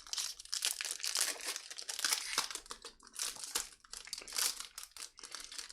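A sealed Magic card booster pack is torn open and its foil wrapper crinkles and crumples close up, a steady run of crisp rustling and tearing bursts that sounds fairly quiet and plays alone.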